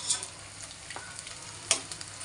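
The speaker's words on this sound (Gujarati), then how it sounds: "રીતે આપણે થોડો થોડો ગુંદર નાખી અને તળી લઈશું." Pieces of edible gum frying in hot ghee for fenugreek laddoos, a steady close sizzle with a couple of sharper crackles and a spoon stirring.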